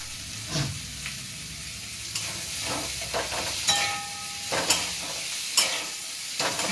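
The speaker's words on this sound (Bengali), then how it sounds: "এবার এর মধ্যে আমি ক্যাপসিকাম গুলো দিয়ে দিচ্ছি।" Capsicum hits a hot pan for chilli paneer, giving a steady hissing sizzle punctuated by sharp clinks and scrapes of a spatula stirring the pieces.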